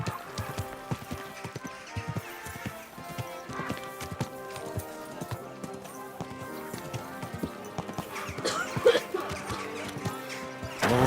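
Horse hooves clip-clop steadily in Kingdom Come Deliverance 2, a brisk rhythmic gait of close, distinct hoof strikes on a hard path with a brief snort or crash near the end.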